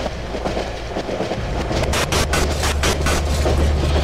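Train riding on rails in the horror game Cry of Fear: a loud, steady rumbling roll with rhythmic clattering bursts, continuous and close, with no voices.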